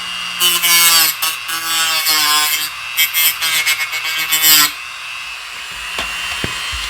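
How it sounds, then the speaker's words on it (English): Dremel rotary tool at low speed grinding burnt residue off a 1:1400 scale model starship part, a rough, rasping buzz in uneven bursts for several seconds, then near silence with faint handling clicks. "we can Dremel this off a little bit more. We go much lower speed now."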